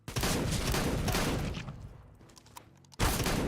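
Rapid bursts of gunfire from a CS:GO match played on Faceit, loud and dense at first, then a few sparse single shots before another heavy volley.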